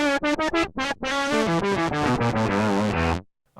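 Synthesized guitar notes from a Boss SY-1000 with VCO and distortion modes combined, played in a quick melodic run, buzzy and distorted with a heavy effects tone, ending abruptly in silence.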